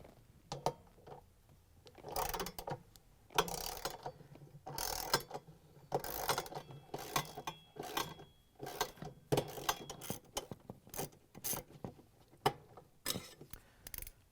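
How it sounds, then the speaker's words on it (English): A ratchet fitted with an extension and a 10mm socket turns out the bracket bolts on a Samsung washer, giving repeated quick clicking bursts in an irregular rhythm, fairly faint and close, with no talk. "So we're going to use a ratchet with an extension and a 10mm socket."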